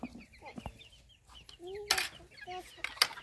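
Frizzle chickens clucking softly nearby in short, scattered chirps and clucks, with a couple of sharper bursts of noise mixed in.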